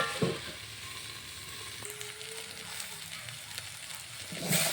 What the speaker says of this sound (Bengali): সুন্দরভাবে নাড়াচাড়া করে পটলগুলো ভেজে নিলাম